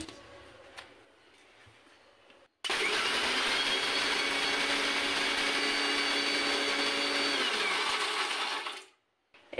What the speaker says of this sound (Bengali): এবার এগুলোকে দিয়ে ভালো করে মিহি পাউডার বানিয়ে নেব।